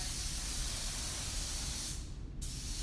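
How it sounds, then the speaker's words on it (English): Paint sprayed as a finish coat, a steady broadband hiss of spray gun and overspray running continuously, briefly thinning near the end before resuming, close and fairly loud with no talk. "I'm getting a lot of paint overspray in my hair"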